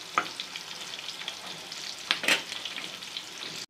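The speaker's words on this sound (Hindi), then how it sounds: "ये तरह आपने फ्राई कर लेने हैं तमाम कबाब।" Beef chapli kebabs sizzle steadily in hot oil in a home kitchen, a dense continuous frying hiss with a few louder pops and crackles, close and without talk.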